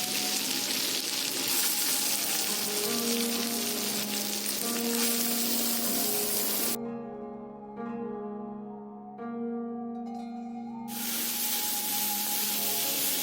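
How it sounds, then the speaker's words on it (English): Chopped onion sautéing in a pan for pav bhaji, a steady close sizzle and fry with brief quieter gaps where the hiss drops out, then returns at full strength; background music tones run underneath. "Saute the onion till it is translucent"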